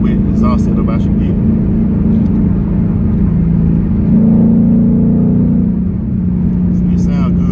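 A car exhaust with an H pipe and factory muffler rumbles at a deep idle and swells briefly as the engine revs, heard close up with someone talking over it.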